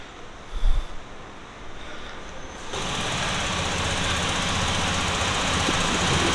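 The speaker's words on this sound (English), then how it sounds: "The engine is very smooth, a very refined engine." A new TVS Jupiter 125 scooter engine starts with a brief near burst, then settles into a steady, even idle hum that runs without a break to the end. No one speaks.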